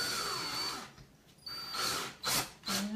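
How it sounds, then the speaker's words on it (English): Power drill boring a hole into a wooden tray for a Moroccan-inspired DIY piece, a sustained whine that stops and restarts in short bursts at close range. "So I'm going to drill again."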